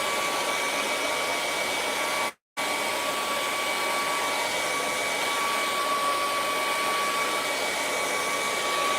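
A hair dryer blows steadily and loudly at close range to dry acrylic paint on a moonlit mountain painting, with a whining tone and one brief cut-out partway through.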